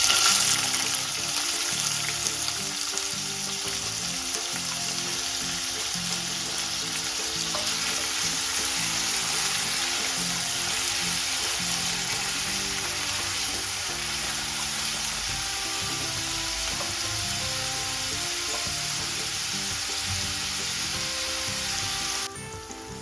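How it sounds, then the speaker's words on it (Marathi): Finely chopped onion and tomato frying in hot oil for a whole masoor curry, a loud, dense, continuous sizzle that holds steady and close throughout with no talking, then drops slightly at the very end. "आता तेल गरम झालंय, त्यामध्ये आता आपण एक टोमॅटो आणि एक कांदा बारीक चिरून घेतलाय, तो अगदी खरपूस कलरवर भाजून घ्यायचा आहे"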